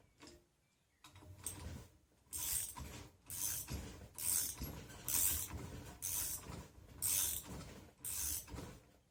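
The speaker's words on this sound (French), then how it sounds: "Pour comprimer le ressort, j'utilise mes deux compresseurs de ressort" Threaded spring compressors are cranked down on a Peugeot 407 front shock absorber spring, a series of rhythmic ratcheting clicks and creaks in regular bursts, close and quiet.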